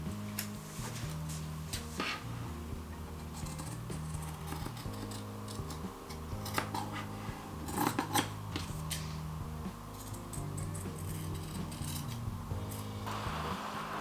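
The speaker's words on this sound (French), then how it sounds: "Et je vais découper." Scissors snip through fabric while making a Santa Claus figure, a quiet run of short crisp cuts and clicks spread across the stretch with no talking.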